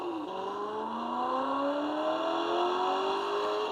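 Synthetic engine sound effect from a kids' ride-on toy Aston Martin F1 car, a steady electronic whirring drone with rising pitch sweeps like revving, played continuously for several seconds with no talk.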